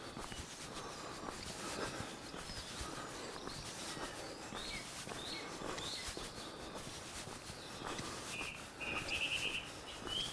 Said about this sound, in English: I love the bird song this time in the morning.